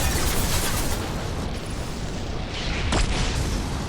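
Flashbang explosion in the video game Mass Effect 2, heard as a loud, dense burst of blast noise amid continuous combat din, with a brief sharp crack near the end.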